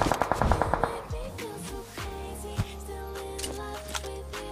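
Rapid bursts of automatic gunfire from a battle royale shooter, PUBG Mobile, crack loudly at the start, then give way to scattered single shots and in-game effects over a steady low hum.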